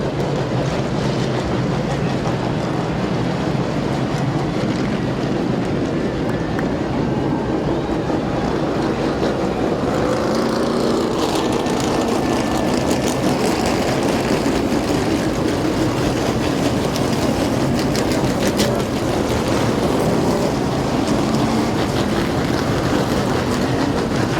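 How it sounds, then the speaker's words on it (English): A field of race cars roars around the oval at Midvale Speedway under green flag racing, a loud, unbroken wall of engine noise that holds steady throughout. "wave this field off for 100 laps of green flag racing here at Midvale Speedway"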